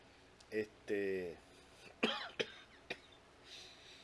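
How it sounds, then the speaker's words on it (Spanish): A few short, dry coughs and throat-clearing sounds come between bits of speech, close and fairly quiet against a faint background hiss. "perdone la tos, que estoy todavía recuperándome de eso"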